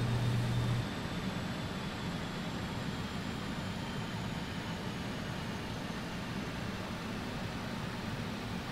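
Airliner jet engines idling in Microsoft Flight Simulator, a BAe 146 add-on, giving a steady broadband whine and rumble that runs unbroken throughout with no talk.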